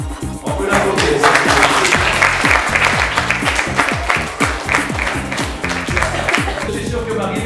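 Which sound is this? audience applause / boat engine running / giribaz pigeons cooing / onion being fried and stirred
audience applause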